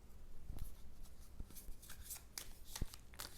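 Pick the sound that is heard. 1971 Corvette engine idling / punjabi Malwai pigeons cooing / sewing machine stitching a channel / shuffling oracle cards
shuffling oracle cards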